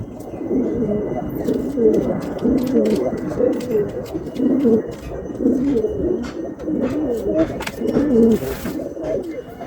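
Many pigeons coo continuously at close range, low throaty rolling calls overlapping in a steady chorus, with occasional faint clicks and rustles.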